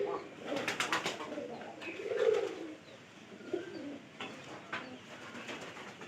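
Domestic pigeons in a loft, busy carrying straw for nesting, give low repeated cooing murmurs at moderate distance, mixed with soft chirps and rustling; no one speaks.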